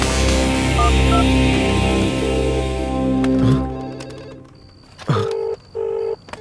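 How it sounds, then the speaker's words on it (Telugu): A nearby telephone rings in two short, even electronic bursts, loud and close, after a stretch of music and background noise fades out. "అవును, ఇక్కడే ఇక్కడ పక్కన రింగ్ అవుతుంది"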